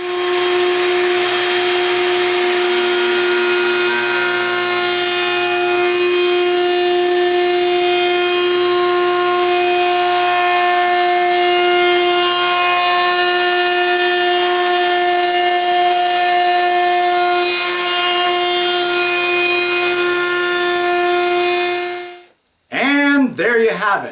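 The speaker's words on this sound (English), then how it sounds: "I'm going to go over and set up the router table, and I'm going to route that top profile" A router table runs at a steady high whine for over twenty seconds, loud and close, routing a wooden profile, then cuts off abruptly as it spins down.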